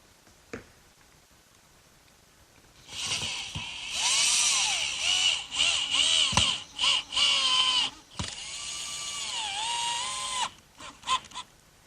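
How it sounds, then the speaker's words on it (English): A power drill bores pilot holes into hard oak while a workbench is built in a woodworking shop. Whining, pitch-shifting bursts come close and loud across several seconds, broken by short pauses. "on this oak, it's critical to cut pilot holes. It's such a hard wood"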